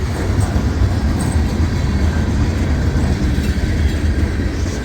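A CSX freight train rolls steadily past at close range, its boxcars clattering over the rails in a continuous loud rumble with faint clickety-clack and no talk.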